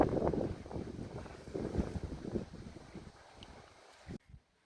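Wind gusts across the deck of a sailboat riding at anchor, buffeting the microphone in uneven bursts that fade before a sudden cutoff.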